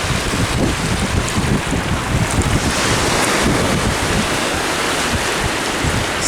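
Waves wash against the River Thames foreshore in a steady broadband rush, buffeted by loud wind noise on the microphone, with no voices.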